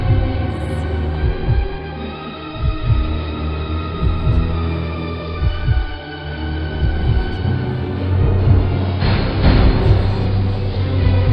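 Heartbeat sound from the horror video game House of Velez: low, soft rhythmic thumps repeating steadily under a humming ambient drone, with no voices.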